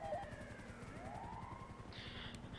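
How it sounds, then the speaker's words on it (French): Ambulance siren in a French role-play game server, a wailing tone sweeping up and down at moderate level over a steady engine-like rumble, with no talk. "Monsieur Berger, c'est vous avec l'ambulance?"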